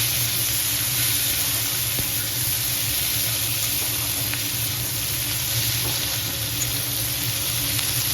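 Chopped onions fry in hot oil in a pan for a Bengali potol, potato and prawn curry, giving a loud, unbroken sizzle that holds steady close by.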